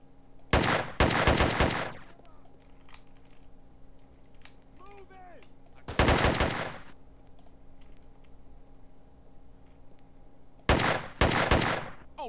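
Police gunfire in the video game GTA San Andreas comes as three loud bursts of rapid automatic shots spread several seconds apart, over a faint steady background hum.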